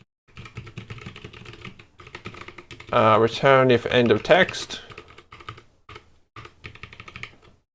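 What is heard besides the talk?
typing on a wobbly computer keyboard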